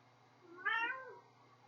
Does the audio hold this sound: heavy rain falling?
no